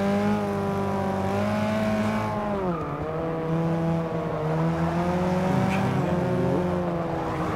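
A Porsche 718 RS 60 race car roars steadily in Forza Motorsport, its engine note rising and dipping as it shifts and works through corners, loud and continuous with a faint edge of tire noise.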